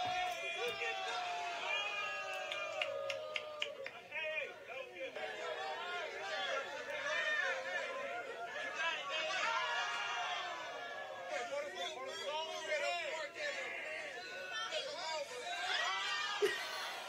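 Crowd at a hood crate challenge event, a dense lively murmur of many overlapping voices with scattered laughs and shouts throughout.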